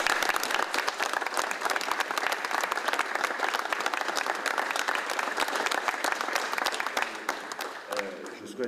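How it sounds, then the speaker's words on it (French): An audience at a Dieppe commemoration ceremony gives the volunteers sustained, vigorous applause that stays loud and dense before tapering slightly at the end. "Je souhaite qu'on applaudisse très fort les bénévoles."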